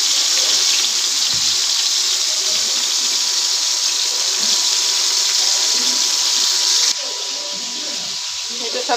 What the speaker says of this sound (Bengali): এটা শাকটাকে আমি ভালো মতো ধুয়ে নিই।